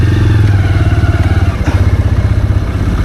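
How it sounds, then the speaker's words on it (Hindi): A motorcycle ridden out along a muddy off-road track, its engine pulsing loud and close in a rapid, uneven throb with a brief clatter partway through. "फिलहाल मैं तो बाइक निकाल देता हूँ।"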